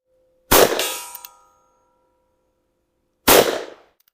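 Two sharp metallic clangs of revolver rounds from a Smith & Wesson Schofield striking a steel target, each ringing out and decaying over about a second, spaced a few seconds apart with silence between.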